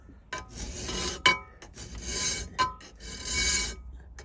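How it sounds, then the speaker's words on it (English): A hand file rasps across a metal steam tram floor panel as it is worked to a marked line. Three long, loud strokes come close up, each separated by a short sharp knock or pause. "I'll just show you a little bit of this filing action"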